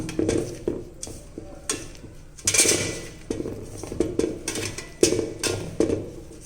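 Ground dough being mixed with oil by hand in a vessel, producing irregular squelching, scraping and clattering bursts in an uneven rhythm, fairly close.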